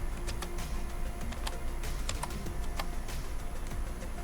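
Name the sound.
typing on a computer keyboard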